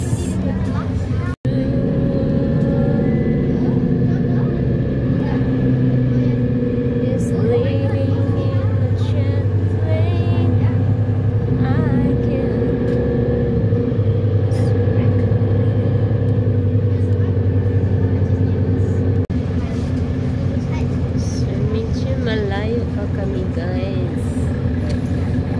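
Inside a bus at students' going-home time, a continuous engine rumble and road noise fill the cabin, with shifting drone tones and a busy murmur of passenger chatter throughout.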